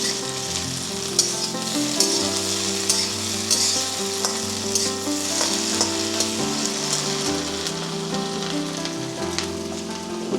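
Okra (bhindi) stir-frying in a hot pan for bhindi sabji, with a steady, loud sizzle and crackle that runs throughout. Occasional clicks and scrapes from stirring break through, and nobody speaks.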